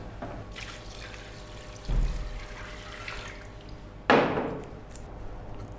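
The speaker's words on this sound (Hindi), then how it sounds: "अब हम इसमें पानी शामिल करेंगे।" Water is poured into a pot of fried beef to make stock for kabuli pulao: two short splashing pours, the second louder and brighter, over quiet kitchen background with no talking.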